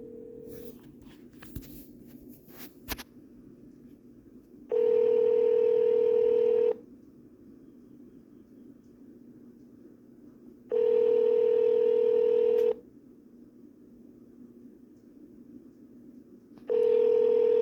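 A few quick keypad tones are followed by a phone ringing back three times, each long steady ring separated by several seconds of quiet.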